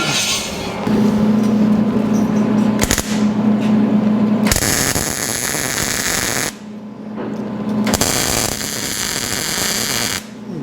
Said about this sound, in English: All right, let's weld that up.